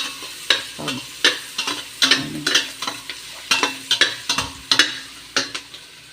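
Onion frying in melted butter in a pan, with a soft sizzle under a series of sharp, rhythmic utensil clicks and scrapes as it is stirred.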